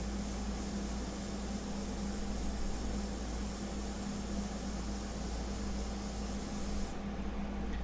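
Steady, close hiss of an airbrush spraying paint on a sepia fine art portrait, continuous and unbroken with a faint low hum beneath, and no talking.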